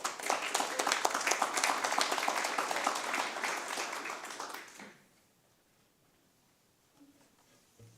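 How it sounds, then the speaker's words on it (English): Audience applause at a school board of education work session, a dense burst of clapping from a roomful of people that holds steady for several seconds, then cuts off abruptly into near silence with a faint murmur. "Give a round of applause one more time."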